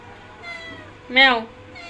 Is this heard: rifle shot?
no